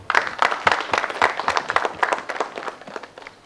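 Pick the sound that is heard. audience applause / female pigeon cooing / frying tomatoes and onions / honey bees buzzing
audience applause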